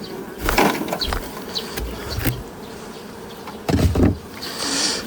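Honeybees buzz loudly around an open hive while a beekeeper moves frames from a six-frame into a twelve-frame hive, with close, fluctuating wingbeat drones, brief bursts as bees fly near, and some handling clatter.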